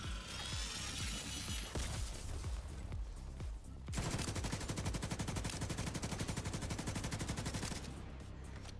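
Automatic gunfire in The Division 2, an opening volley followed by a sustained, very rapid stream of close, loud shots that cuts off near the end.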